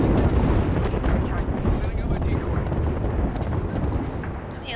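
A frag grenade blast in a first-person shooter, heard as a loud, broad rumbling roar that fills the whole clip and fades slightly toward the end, with muffled players talking over it.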